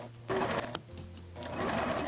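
A sewing machine stitches bias tape onto an apron made from a shirt, set to a 2.5 mm stitch length; its steady motor whir runs close and loud through most of the stretch, dipping briefly partway before picking back up.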